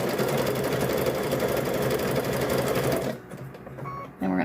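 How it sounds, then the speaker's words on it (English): A sewing machine stitching across a coiled rope bowl runs loud and close in a steady rapid whir for about three seconds, stops, then briefly starts again; no one talks over it. "So we'll sew across that way, kind of pull it across."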